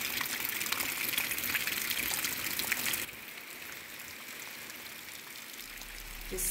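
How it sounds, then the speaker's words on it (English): Steady heavy rain from Storm Rafael in Jamaica pours down in a dense, continuous hiss, loud and close, easing slightly partway through but never stopping, with no voices. "Despite the steady pace at which it is raining, we all know that flooding and landslide can still take place."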